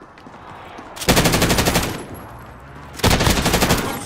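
Automatic gunfire from Call of Duty: Modern Warfare on Rebirth Island comes in two loud, rapid bursts about two seconds apart.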